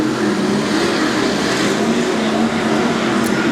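A Superstock race car engine running rough and off song drones steadily, a rough buzzing hum holding a fairly constant pitch, loud and continuous with no voices.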